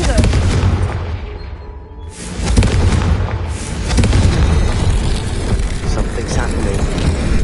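A blasting-spell explosion cast in Hogwarts Legacy, a loud booming burst with a rumbling tail, layered among dense game sound and a voice.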